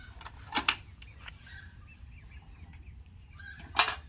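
Chickens in a movable chicken tractor on a farm give soft, scattered clucks and murmurs, with two louder bursts of squawking or wing flapping near the start and end.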